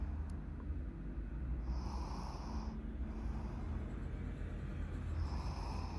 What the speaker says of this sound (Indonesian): Tuh guys, ngorok. Abang ngorok abang.